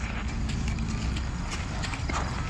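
Hooves clip-clopping in a steady, busy rhythm, fairly close and continuous, over a dense background of noise.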